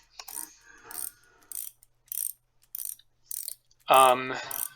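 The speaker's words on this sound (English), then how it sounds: "We're going to go ahead and install our linear generator here." Repeated short mechanical clicks and ratcheting bursts from installing a linear generator in a video game, evenly spaced, ending in a louder resonant metallic clunk.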